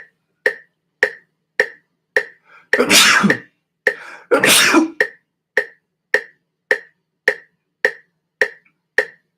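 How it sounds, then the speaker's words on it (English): Two broadband bursts like sneezes break through a steady series of regular sharp ticks, close and loud. "Sneeze coming on."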